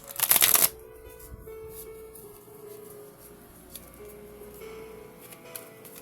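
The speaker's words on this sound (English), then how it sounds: "I'm shuffling the unicorns card." Tarot cards are shuffled in a quick, loud riffling burst up close, followed by a few faint taps and soft handling sounds in a quiet room.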